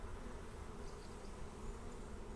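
Honeybees buzz steadily on a frame lifted out of a hive, a soft continuous hum with no breaks and no talk.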